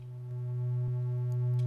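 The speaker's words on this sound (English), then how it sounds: "It's just a triangle wave with some chorus, and it has a long attack time," A simple synth bass patch, a triangle wave with chorus and a long attack, holds a single low note that swells gradually louder and sustains smoothly with no talking.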